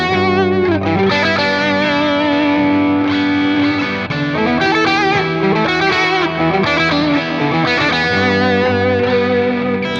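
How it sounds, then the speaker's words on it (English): An electric guitar through distortion and chorus plays string-skipping pentatonic licks, a dense, continuous stream of quick notes that jump between strings with sustained, saturated tone throughout. "these different pairs of string skipping licks work pretty well with each other to build some sort of a cool little story in the solo"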